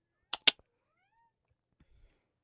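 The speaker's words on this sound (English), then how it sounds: "I'm gonna have a kitty visitor." A cat gives two short, close meows in quick succession, followed by quiet and a few faint soft thumps.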